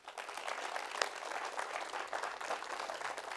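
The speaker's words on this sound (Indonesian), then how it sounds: "Tepuk tangan buat Mas Umar." Audience applause at an Islamic talk event, a dense, steady wash of many hands clapping for several seconds, moderately distant and without speech.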